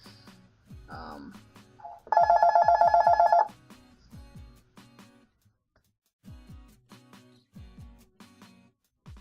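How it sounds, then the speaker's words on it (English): A landline telephone rings indoors in a loud, steady electronic trill lasting over a second, framed by a person talking before and after. "And there's the phone again."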